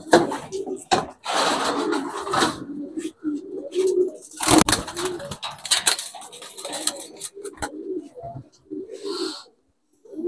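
Racing pigeons arriving at an outdoor loft, with soft intermittent cooing amid clattering and rustling bursts, all fairly close and moderately loud.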